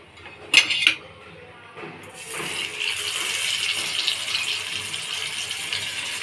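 Tilapia fish dropped into hot mustard oil in a pan, giving a couple of sharp clatters followed by a steady, loud sizzling hiss that continues on its own.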